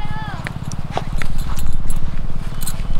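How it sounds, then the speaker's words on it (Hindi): A horse is led along on foot, its hooves clip-clopping in a quick, steady rhythm close by, with someone talking over the footsteps. "फिलहाल यहाँ से हम घोड़े को ले चलते हैं"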